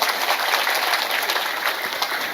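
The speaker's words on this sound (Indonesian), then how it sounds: "Tepuk tangan disit kanggo panitia." Crowd at an Islamic religious gathering applauding the organising committee, a loud, dense, continuous burst of many people clapping together with no talk over it.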